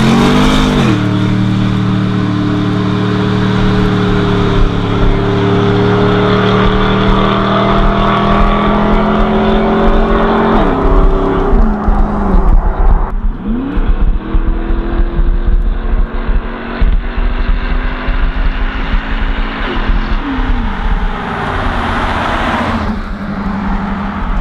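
A Ram 1500 truck engine with a Comp cam, BBK larger throttle body and BBK headers idles with a loping rumble, then revs repeatedly, the loud exhaust note rising and falling nearby.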